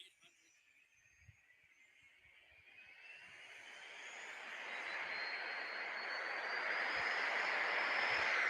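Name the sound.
Gulfstream business jet aircraft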